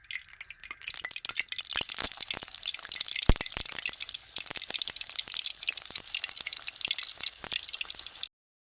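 Cauliflower pakoras deep-fry in hot oil, giving a dense, crackly bubbling sizzle with sharp pops, steady and close until it cuts off abruptly.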